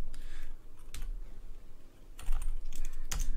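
Someone types on a computer keyboard in quiet, close bursts of clicking keystrokes, separated by short pauses.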